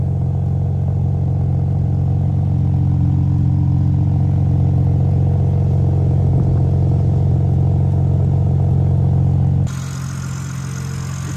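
A 2024 BMW M3 CS engine idles steadily with a deep, throbbing rumble for several seconds, then the tone shifts abruptly near the end.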